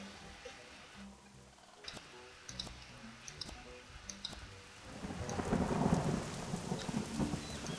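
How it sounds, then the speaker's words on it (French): Thunderstorm rumbling over steady rain, with a deep roll of thunder building in the second half, heard behind game music. "Et on a de l'orage ici."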